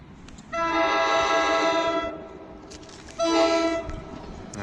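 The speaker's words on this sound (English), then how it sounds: "Now here comes the train." A train horn sounds loudly in two long blasts, separated by a short pause, over a steady low rumble of rolling rail cars as the train arrives.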